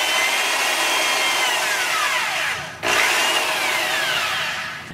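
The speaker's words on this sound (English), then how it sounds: "I'm going to drill my hole." A power drill bores a hole into a natural wooden branch for a bird perch, its motor whining loud and close in two continuous bursts with a brief dip between them.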